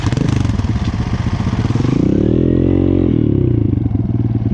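A 450R ATV and a 230F dirt bike rev hard side by side at the start of a race, a loud close engine roar with rapid rising and falling pitch sweeps and rattling clatter.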